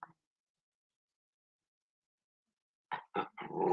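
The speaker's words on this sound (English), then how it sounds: "Don't growl at me." A dog growls and grumbles in a few short, throaty bursts near the end, close and fairly loud after a long stretch of silence.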